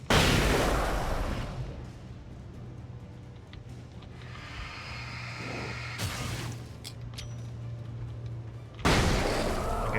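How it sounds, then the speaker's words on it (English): Flashbang explosions in the Alan Wake video game, with a loud bang at the start, a low humming drone, scattered clicks and thumps, and another sharp blast near the end. "Flashbangs insta-kill them."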